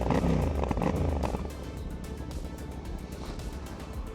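Suzuki DL800DE adventure motorcycle engine running as the ride begins, a steady low rumble that is louder for the first second or so, then settles to an even, moderately loud drone.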